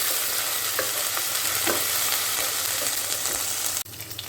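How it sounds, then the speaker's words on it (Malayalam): Steady crackling sizzle of whole spices frying in hot oil, close and continuous, with a few soft stirring knocks; the sizzle drops abruptly near the end. "ഇതൊന്ന് മൂപ്പിച്ചെടുക്കാം"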